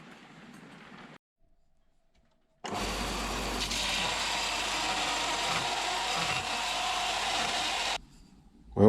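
Belt sander grinding a steel part, a loud, steady broadband whine running unbroken for about five seconds after brief quieter shop noise, then stopping abruptly.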